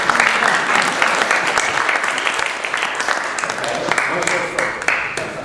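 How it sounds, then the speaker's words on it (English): A room full of audience members breaks into sustained, loud applause with dense clapping throughout, and voices can be heard mixed in. "I want you to applaud if this has ever happened"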